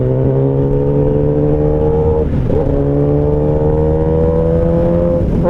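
Kawasaki Ninja ZX10R superbike engine revving on the ride home, a loud, steady high-pitched drone that dips briefly mid-way and climbs again, with continuous wind rush underneath.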